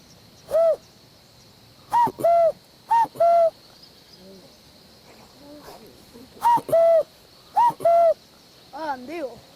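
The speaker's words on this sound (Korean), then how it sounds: "뻐꾸기 소리 한번 들어보세요." A cuckoo gives a clear two-note call several times in a wetland, in spaced pairs, with quiet gaps and a faint murmur of voices near the end.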